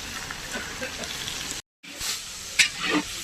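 Meat and fish frying in oil for a wedding feast, with a steady, close sizzle and hiss, a brief drop to silence, then bubbling and spattering surges as more food goes into the pan.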